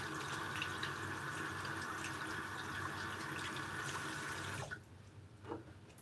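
A tap runs steadily as hands are rinsed of slick shaving lather, the close splashing water continuing for several seconds and then cutting off abruptly, leaving quiet room tone with a faint drip or two.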